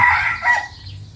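Hungry chickens call out close by in a short, loud burst of squawking, clucking notes that fade toward the end.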